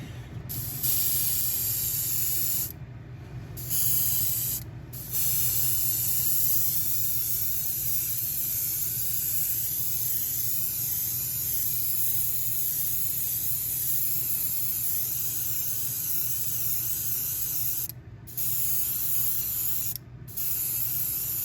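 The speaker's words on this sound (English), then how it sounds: "I'm gonna see if I can mist it down at 10 psi if it'll spray." A sprayer set to 10 psi mists with a steady, loud hiss that runs continuously and stops in a few short breaks.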